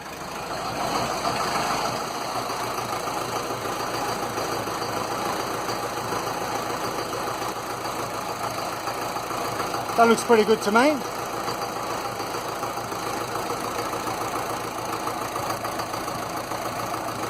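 A Land Rover Series 2a 88 2.25 diesel engine, still warming up, idles steadily throughout, a low continuous rumble, with someone speaking briefly partway through.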